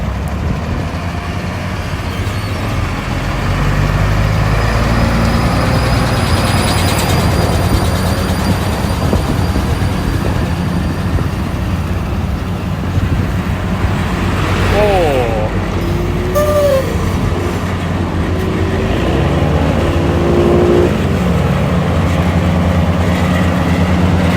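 Two Vögele Super asphalt pavers, a wheeled 1803-2 and a tracked 1900-2, rumble together alongside road rollers on a road job, a loud continuous heavy diesel drone with faint clanks and squeals, with no pause in the machinery.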